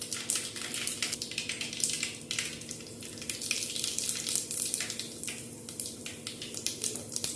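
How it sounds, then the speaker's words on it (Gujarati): Mustard seeds and cumin sizzle in hot oil for a Gujarati dal tempering, giving a quiet, close crackle with frequent small pops and spits. "તેલ ગરમ થાય એટલે એમાં અડધી ચમચી જેટલી રાઈ એડ કરીશું. રાઈ આપણી ફૂટે ત્યારબાદ તેમાં આપણે"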